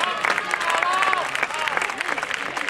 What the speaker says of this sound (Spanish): Fuerte el aplauso por Lucía Rodríguez de Ardillas Escorial